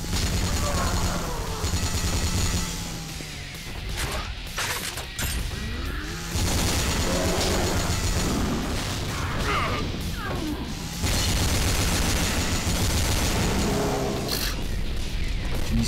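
Rapid gunfire from a gun-hand weapon in the action game Yakuza Dead Souls, dense repeated bursts blasting loudly and almost continuously with a brief pause, mixed with crashing impacts and game noise.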